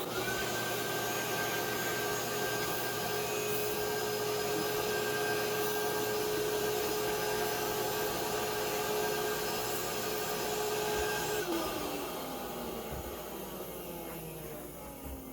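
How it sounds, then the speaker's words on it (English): HEPA vacuum cleaning out a wood stove, a steady close whine and whoosh of suction running continuously before the motor winds down near the end. "So I have a HEPA vac, and I'm going to go ahead and clean up in here"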